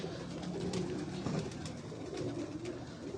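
Pigeons coo on a rooftop where pigeons are kept, a soft, steady murmuring that continues throughout with no talk over it.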